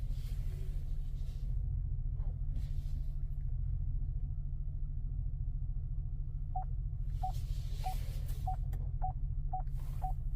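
A Lincoln Navigator's parking sensor gives a run of short, evenly spaced beeps over a steady low cabin rumble, fairly faint, with no talk.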